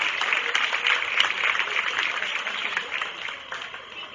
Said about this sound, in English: let's give these both exhibitors a nice round of applause